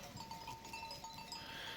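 Sheep out in a green field, with a faint, steady bleating and a soft tonal call drifting through a constant outdoor background.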